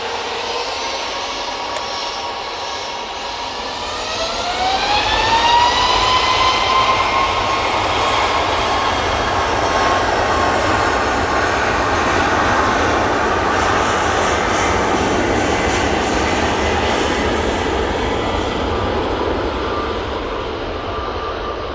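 Jet engines of a Boeing 737 MAX 8 spool up at an airport, a rising whine that climbs over several seconds and then holds as a loud, sustained roar with steady tonal hum.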